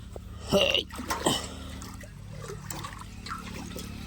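Water splashes and trickles into a bucket in a couple of short bursts, followed by a quieter steady dribble, with a low hum underneath.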